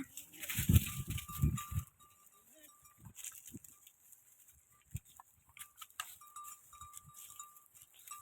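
Goats browse near a ber tree, with a couple of loud bleats up close at first, followed by quieter rustling, shuffling movement and scattered faint sounds from the herd.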